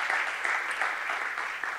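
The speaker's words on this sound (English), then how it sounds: "One more round of applause for Canisia Lubrin" Audience applause at an international poetry evening for poet Canisia Lubrin, a brief, dense, even burst of clapping from a crowd, with no talking over it.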